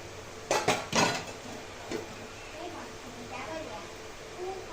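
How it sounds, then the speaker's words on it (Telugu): Macaroni tipped into a pan of cooked masala for Indian-style spicy pasta, with a quick clatter of metal pan and spoon, then softer scraping as it is mixed, under a speaking voice. "ఇప్పుడు ఇందులోకి మక్రోని వేసుకుందామండి"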